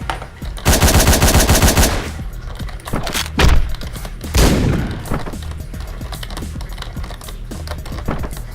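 Rapid automatic gunfire from the top-down action game Hotline Miami, a dense loud burst lasting about two seconds followed by several heavy single shots and impacts, with game noise continuing underneath.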